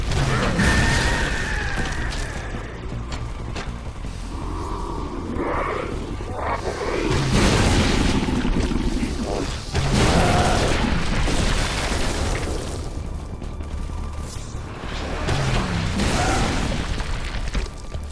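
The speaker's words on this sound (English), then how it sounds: "So I just take them out with a rocket in order to use up the second shot" Deep booming explosions from rocket launcher fire in the video game Halo 3, several heavy blasts with whooshing rumble rolling over a loud, continuous battle backdrop.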